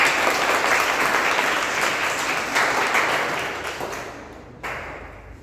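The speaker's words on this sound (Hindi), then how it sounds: "आप जोरदार तालियों से उनका स्वागत करें" An audience bursts into loud, sustained applause to welcome a poet at a Hindi poetry recitation, the dense clapping holding strong before tapering off near the end, no voices over it.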